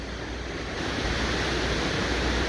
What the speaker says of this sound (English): Follow it around and you've got all these waves.